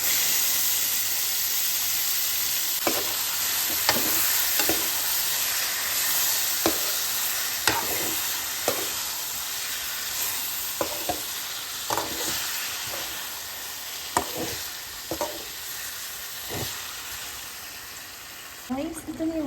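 Squid cooking in a pan with bay leaf and soy sauce, giving a steady sizzle and hiss with frequent sharp clinks and scrapes of a stirring spoon, and a brief voice near the end.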